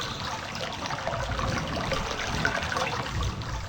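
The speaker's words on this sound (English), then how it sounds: "Open the nozzle, let water out." Water gushes steadily from an opened nozzle in realMyst, a continuous broadband rush and trickle that stays at an even, fairly loud level throughout with no voices.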